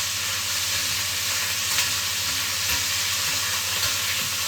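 Meat browning in a hot pan for a Zurich-style tranche, with a steady close sizzle and crackle and a few soft pops, and no voices.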